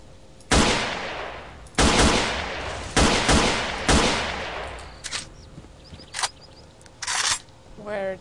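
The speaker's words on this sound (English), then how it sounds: "Where did the grenade fall, I wonder?" Video game combat with four loud, close blasts at roughly one-second intervals, each decaying quickly, then smaller bursts and pops, one of them likely the grenade explosion.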